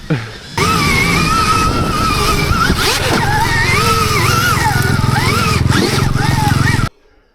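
A Beta enduro motorcycle engine revs hard off-road, loud and close with a buzzing whine that rises and falls through several throttle bursts, then cuts off abruptly.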